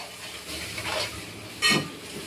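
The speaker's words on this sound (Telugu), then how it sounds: "తర్వాత మనం అందులోనే అల్లం వెల్లుల్లి చెక్క వేసుకొని కలుపుకోవాలి." Ginger, garlic and cinnamon are stirred into a sizzling mutton and raw mango curry, with a steady close frying hiss and a sharper burst of scraping and sizzle near the end, no voices.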